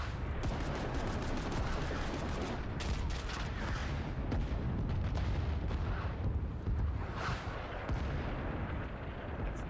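RPG rocket blasts and gunfire in a shooter video game, with a dense run of sharp shots crackling at the start and deep booming explosions rumbling underneath for the full stretch, fairly faint overall.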